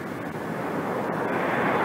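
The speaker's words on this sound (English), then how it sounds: "The captain pushes the throttle and the big jet starts off." A four-engine jet airliner begins its takeoff roll, a steady, loud broadband roar of engines with no distinct pauses, heard from inside the cabin.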